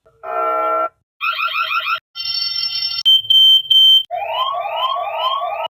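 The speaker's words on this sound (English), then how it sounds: "You also have different types of sirens, as you can see right there, and the durations." A TP-Link Tapo C420S2 security hub cycles through its siren options, playing five distinct loud electronic alarm patterns about a second each: warbling chirps, beeping bursts, and a high steady tone. There are short silent gaps between them and no voices.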